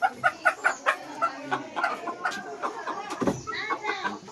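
A pure desi gavthi rooster and hens in a village poultry yard give a rapid series of loud, close clucks, followed by softer scattered clucking and calls, with a person speaking briefly among them.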